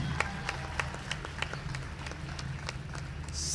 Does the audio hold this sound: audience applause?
yes